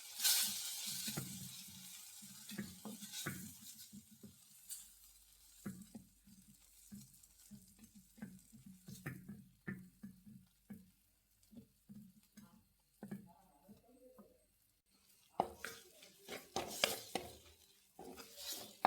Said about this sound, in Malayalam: ഇത് ഇതിനകത്തോട്ട് ഇട്ടാം നല്ലോണം ഇളക്കി കൊടുക്കാം